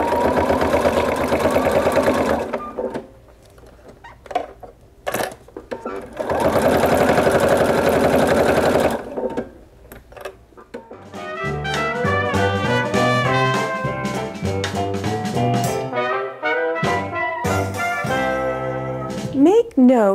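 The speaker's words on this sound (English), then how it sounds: "So now I'm going to stitch 1/4 inch seam all the way around except for the top edge." A sewing machine runs in two sustained bursts as it stitches a quarter-inch seam around fall oven mitts, the whirring loud and close, followed by music.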